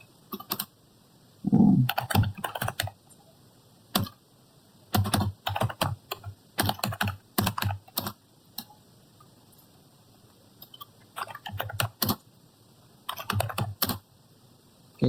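Bursts of keyboard typing as commands are entered into a network router configuration, clustered clicks in short runs separated by pauses, close and clear with no talking.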